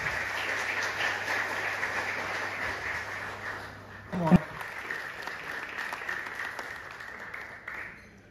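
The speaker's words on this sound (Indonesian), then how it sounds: "Berikan tepuk tangan untuk Mas Pramono Anung" Audience applause for a guest speaker at a student dialogue at a university social and political sciences faculty, with clapping from a hall full of students that builds, peaks with a brief loud burst midway, then fades as a voice comes through.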